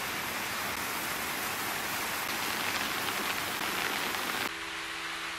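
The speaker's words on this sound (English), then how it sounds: "Oh no, and it's raining." Steady rain patters on surfaces in the animated film Kiki's Delivery Service, an even hiss heard fairly faintly throughout, with a tonal change near the end.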